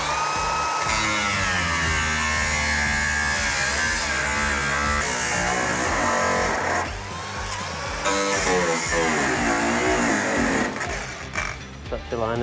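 A jigsaw saws through the metal body panel of a van during a camper conversion, a loud continuous buzzing rasp with shifting pitch as the blade works, briefly easing then surging again near the end.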